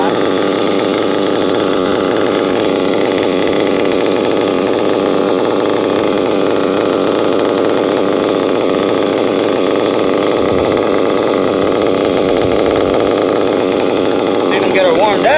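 A Tekno RC car's small nitro engine running to warm up, buzzing loud and steady at close range with a high, raspy whine, holding constant with slight revving toward the end.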